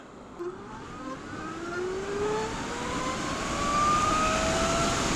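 A 2018 Zero DSR electric motorcycle accelerates hard, its rising electric whine climbing steadily in pitch over several seconds under growing wind rush, close and fairly loud, with no voices.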